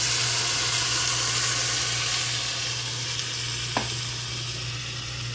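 Chicken rolls stuffed with ham and cheese sizzle in oil in a pan while being stirred, a loud, steady, continuous frying hiss with one brief scrape partway through and no talking.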